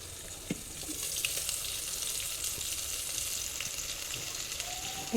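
Kalkul fritters (bora) frying in oil, a steady hiss of sizzling with occasional small pops and clinks, moderately close and unbroken.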